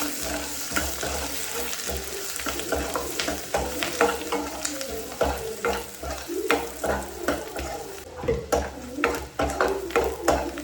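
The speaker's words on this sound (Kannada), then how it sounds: "ಆನಿಯನ್ ಹಾಕ್ತಿದ್ದೀನಿ. ಇದು ಹಾಕಿ ಚೆನ್ನಾಗಿ ಫ್ರೈ ಮಾಡಬೇಕು." Onion and star anise fry in oil for egg curry, a steady sizzle under repeated stirring and scraping strokes of a spoon against the pan that grow more rhythmic toward the end.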